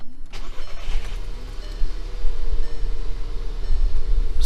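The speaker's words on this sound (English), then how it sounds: "start the car" A VW MK6 GTI engine starts after a diverter valve spacer install, with a brief cranking burst followed by a loud, steady idle rumble, close up and without speech.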